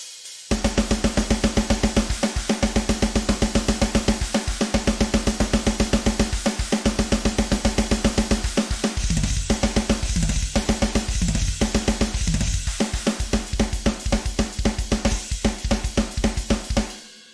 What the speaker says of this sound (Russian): теперь барабанная партия, давайте послушаем отдельно